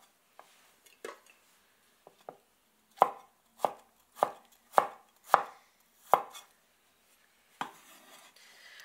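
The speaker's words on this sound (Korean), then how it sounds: "썰어주신 양파는 그릇에다가 보관을 해주세요." A knife chops onion on a cutting board, first with a few light taps, then with a run of evenly spaced sharp knocks and a final cut, close up with no talk. The onion is being prepared for gochu japchae in a Chinese cooking practical exam.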